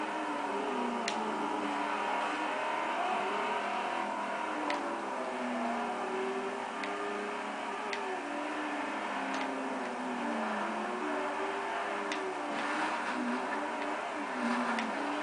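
Racing car engines in a video game drone and rev steadily throughout, with rising and falling pitch and occasional faint clicks, continuous and moderately loud.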